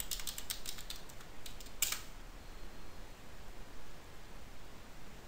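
Typing a password on a computer keyboard, a short run of light, quick key clicks over faint hiss that stops after about two seconds.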